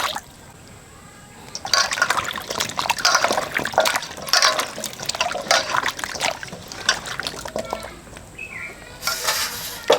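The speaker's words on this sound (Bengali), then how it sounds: "জল দিয়ে কচুটা ভালো করে ধুয়ে নিচ্ছি।" Chunks of taro root (kochu) are washed by hand in a container of water in a village kitchen, with steady sloshing and trickling close by, a brief pause, then more splashing.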